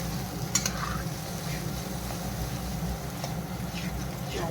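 Paneer matar gravy masala frying in a pan, a steady close sizzle with occasional clinks and scrapes of stirring, brief faint voice in the background.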